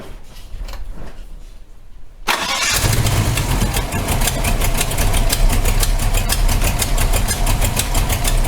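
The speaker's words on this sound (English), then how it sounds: "I better start him up and give you some revs" A car engine fitted with an MSD ignition system cranks over and catches after about two seconds, then runs loud and close with a fast, rough pulsing rhythm, the cold engine idling unevenly.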